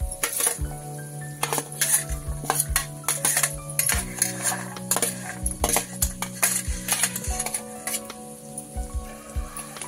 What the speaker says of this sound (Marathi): आता ह्या आपण भाज्या सगळ्या त्यात टाकून घेणार आहोत